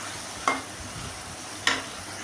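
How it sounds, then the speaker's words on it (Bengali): Fish roe fries in a pan with a quiet background sizzle, broken by two distinct scraping strokes of a spatula about a second apart. "এবার আমি মাছের ডিমটাকে ছেড়ে দিলাম। আমি বারবার নেড়ে দিব, তা না হলে লেগে যাবে।"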